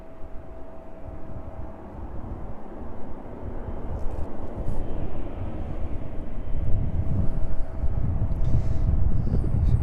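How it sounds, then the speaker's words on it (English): A Boeing 777 arriving onto stand at East Midlands Airport sends a loud, steady jet engine rumble and whine from a distance, swelling gradually over about ten seconds with a faint high tone in the background. "777 then in the distance, arriving onto stand"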